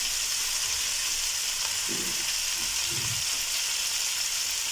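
Brined chicken with onion frying in a pan, giving a steady loud hiss of sizzling with a few soft low thuds of stirring, close up and alone without speech.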